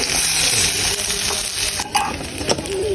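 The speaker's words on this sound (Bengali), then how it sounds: "পুরো পেঁয়াজটা দিয়ে দেবো, পুরো পেঁয়াজটা এখন যাবে।" Onion frying in a wok makes a loud, continuous sizzle up close, with a few spatula scrapes and clinks near the end and no voices.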